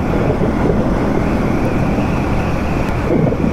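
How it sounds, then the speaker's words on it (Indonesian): Strong wind buffets a motorcycle helmet while riding a TVS Ronin 225cc through Bali, a loud continuous roar of rushing air close to the microphone. "Wah, anginnya kenceng. Iya. Kenceng banget nih."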